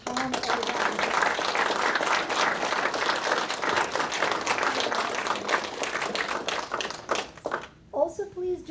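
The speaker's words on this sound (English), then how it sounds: "please extend one more round of applause for our presenters, Tom and Olga" An audience applauds presenters at the close of a college scholarly talk event, a dense, steady wash of many hands clapping that carries on for several seconds before thinning out and fading near the end.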